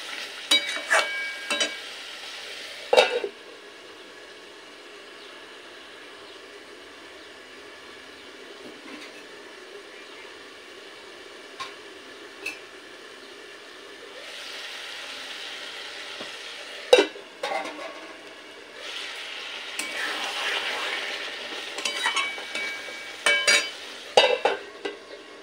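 Katla fish head pieces fry with spices in a pan, making a crackling sizzle that swells and fades in bursts, broken by sharp clanks and scrapes of stirring, with no voices.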